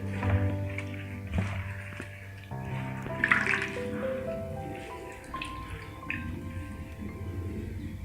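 Water is squeezed and dripped from grated tapioca (cassava) by hand while preparing Kerala-style tapioca puttu: wet splashing and trickling drips recur over several seconds beneath a steady tonal background.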